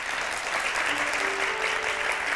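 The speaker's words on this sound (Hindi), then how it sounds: "ज़ोरदार इनके लिए तालियाँ बजाई जाएँ।" Dense, steady applause from an audience at a televised Hindi variety show, a continuous wash of many hands clapping loudly with no pause.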